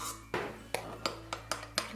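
Cream being spooned into six containers, a series of about six crisp clinks of a spoon tapping the container rims at a steady pace, close and fairly quiet with no talking.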